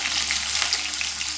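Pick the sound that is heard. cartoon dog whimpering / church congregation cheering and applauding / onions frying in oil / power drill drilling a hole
onions frying in oil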